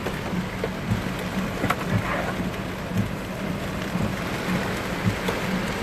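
Heavy rain pours steadily over Seoul during a night storm, a dense continuous hiss with faint low rumbles of thunder underneath and no voices.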